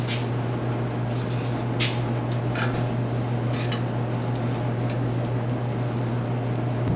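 Radicchio searing in a pan on the stove, a steady close sizzle with a constant low hum underneath and a few faint scraping stirs, no talking.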